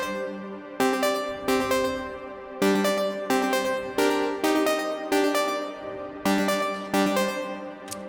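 Ableton's Analog synth instrument playing a sequence of bright, harmonically rich chords in a steady rhythmic pattern, each stab struck sharply and decaying, loud and upfront with no talking.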